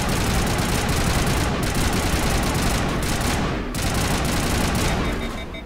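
Sustained gunfire in Mass Effect Legendary Edition: a dense, continuous burst of rapid automatic shots with a mechanical roar underneath, loud and close, briefly dipping once before resuming.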